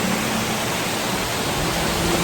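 Dudhiware waterfall near Lonavala, a dense, steady roar of falling water filling the whole stretch, loud and unbroken with no voices.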